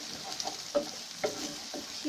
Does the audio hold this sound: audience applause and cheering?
no